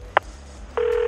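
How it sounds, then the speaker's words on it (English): A mobile phone being dialed to place a call in a radio drama: a short keypad tone, then after a pause a steady, loud dial-style tone holds to the end, with no voices. "He takes out his phone from his left pocket and calls Tumi"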